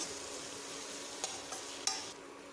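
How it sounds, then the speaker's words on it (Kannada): Cashews frying with spices in a pan while making kuska rice give a soft, steady sizzle, with a few light scrapes and clicks of stirring near the end. "ಇದ್ರ ಜೊತೆಗೆ ಹತ್ತರಿಂದ ಹನ್ನೆರಡು ಗೋಡಂಬಿನೂ ಸಹ ಸೇರಿಸಿ ಇದನ್ನು ಫ್ರೈ ಮಾಡ್ತಾ ಇದ್ದೀನಿ"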